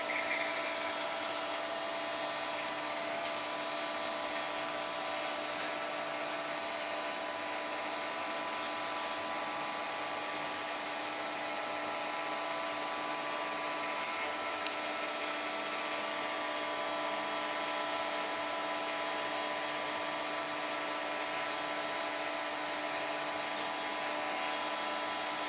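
A Nespresso Vertuoline coffee machine brewing, giving a steady, continuous mechanical whir and hum with a faint tonal whine that holds evenly throughout, with no talking.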